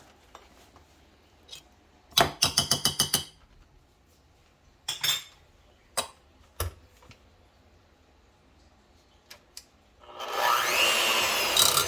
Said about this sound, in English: And some milk. And now we stir.